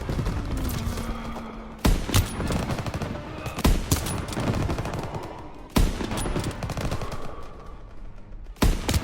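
Machine gun fire in the Call of Duty video game, rapid sustained bursts of gunfire with loud heavy shots punctuating a dense battle din, continuous and close throughout.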